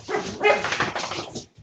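Pet dog barking indoors, a quick burst of several close, loud barks and yips in rapid succession, alone with no talking.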